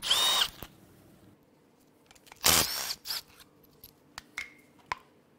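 Oil filter housing is removed from a Cadillac Northstar L37 4.6L V8, with two short whirring bursts from a power tool and scattered sharp clicks and taps of metal parts between them, close by in a quiet shop.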